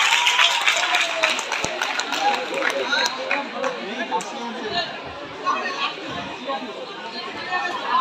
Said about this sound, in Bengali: একটু জোরে হাততালিটা হোক।